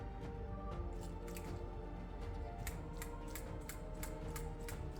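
A PCV valve on a 2.0L Nissan Sentra, freshly cleaned, clicks in a fairly regular series of sharp ticks over a steady engine hum, no talking.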